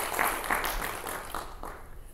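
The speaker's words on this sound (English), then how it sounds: "so give yourselves a round of applause" Applause from a Fedora developer conference audience, several distinct bursts of claps at first, then thinning and fading toward the end.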